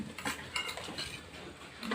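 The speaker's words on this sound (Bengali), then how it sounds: "আমি এবার 15 মিনিটের জন্য যে আলুটা সিদ্ধ করতে দিয়েছিলাম ওটা এবারে ঢাকাটা খুলে নেব।" A metal lid is lifted off a pot of potatoes boiled for 15 minutes for chicken biryani, making a faint scrape and clink close by over a low kitchen hiss.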